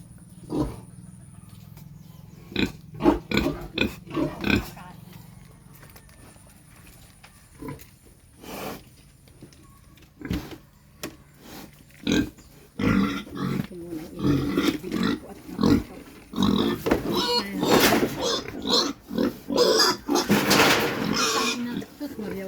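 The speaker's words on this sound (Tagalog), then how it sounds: "ito yung baboy ni Baby May" A pig grunts and squeals in short bursts, first spaced apart and then crowding into a louder, busier run toward the end, close by with people talking around it.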